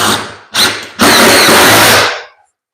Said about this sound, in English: now I'm gonna add some extra screws on each side as well